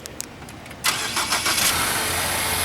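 A Ford Fusion that has sat outside for weeks with a weak alternator and undercharged battery starts by remote start, a slightly slow crank catching into a steady idle nearby after a quiet moment.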